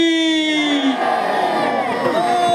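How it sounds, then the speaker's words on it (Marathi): A large crowd at a traditional kusti wrestling akhada in Maharashtra roars and cheers continuously, with an amplified voice or drawn-out tone rising over the dense crowd noise. "वाजवा टाळ्या वाजवा जरा थोडा"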